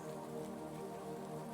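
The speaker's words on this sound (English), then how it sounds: "As the raindrops fall" Gentle raindrops falling in a steady, quiet patter, blended with a low continuous tonal drone, with no one speaking.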